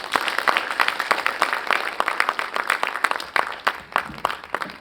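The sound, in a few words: audience applause after a speech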